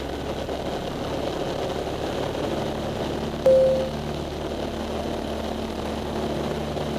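A small propeller airplane engine drones steadily during the takeoff roll, a loud, even cabin hum with a brief tone sounding partway through.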